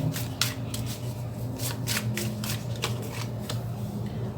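Tarot cards shuffled and drawn give quick papery riffles and soft slaps in short bursts over a low steady background hum, close by.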